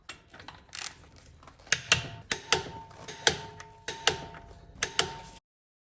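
Wheel lug nuts on a 2015-2018 Ford Edge are torqued down with the wheel barely touching the ground, producing a series of sharp, close metallic clicks, about eight in a row, at a fairly steady rhythm.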